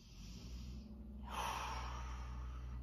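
A quiet, close breath is drawn, followed by a long, airy exhale that trails off softly.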